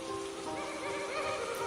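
Rain falls steadily and fairly softly outdoors at night, a continuous broad wash with a faint tonal hum running beneath it and no voices.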